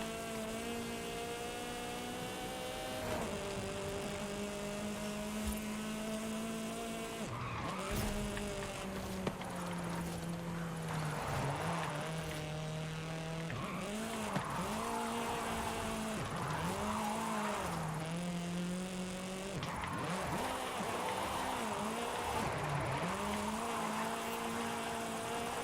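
A drift-built car in Forza Horizon 5 brakes hard into a corner on a mountain run. Its engine drones steadily, then its revs repeatedly drop and climb in a wavering pattern. It stays fairly faint throughout, with no voices.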